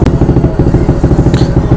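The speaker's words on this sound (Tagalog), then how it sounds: "magtaw na tayo ngayon ng 213cc Aerox straight JBT" A 213cc Yamaha Aerox scooter built for endurance, fitted with a straight JBT version 4 pipe, runs on a dyno. A loud, close, steady engine rumble pulses rapidly throughout, with no talk.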